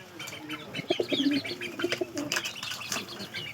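Pigeons newly brought home give faint, soft cooing in short bursts. Scattered chirps and light fluttering come from close by, over quiet background noise.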